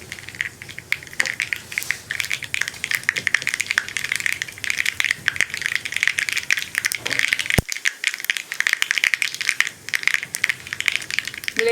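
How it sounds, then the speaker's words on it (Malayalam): Mustard seeds and a few fenugreek seeds splutter in hot oil in a pan, a dense, steady crackle of quick pops and hisses running throughout with one sharper click near the end. "ഉലുവയും കൂടി ഒന്ന് പൊട്ടി വരട്ടെ."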